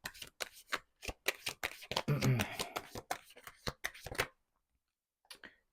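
Tarot cards being shuffled at a reading, a fast run of crisp riffling slaps close up, stopping abruptly and followed by a brief faint flutter.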